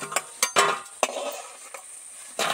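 Chana dal fritters lifted from hot oil and set down to drain: a few sharp clinks and scrapes of a utensil against the pan over a faint, fading sizzle, close by with no talk.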